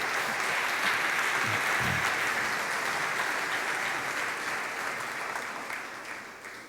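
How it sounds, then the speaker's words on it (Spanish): A church congregation breaks into sustained, full applause that fills the room evenly, then slowly tapers off toward the end. "Bueno, de un aplauso, pero délo de verdad."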